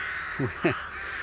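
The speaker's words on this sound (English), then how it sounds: "you probably hear the crows in the background" Two harsh crow caws ring out in quick succession at a caravan and camping site by Fakenham Racecourse in Norfolk, fairly close, over a steady background hiss.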